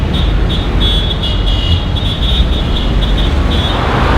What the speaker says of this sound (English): All that crazy traffic and not a single scratch on your car.